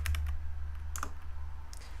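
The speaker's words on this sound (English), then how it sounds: "Let's start typing in a long ass" Clacky keystrokes on a computer keyboard, several quick presses at the start followed by a few isolated taps, close up over a low steady hum, with no talking.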